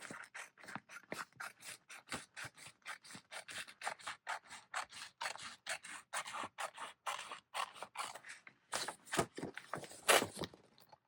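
Rapid snipping and crinkling of scissors cutting through a folded paper map, a quick rhythmic series of close, soft cuts with small pauses and rustles near the end.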